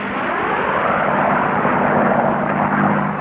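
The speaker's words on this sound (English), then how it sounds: "Clay Lacy, plane number 64, clearly in the lead up high" Racing airplanes roar past during an air race, a loud continuous propeller-engine drone with a steady buzzing pitch that holds throughout, no talk over it.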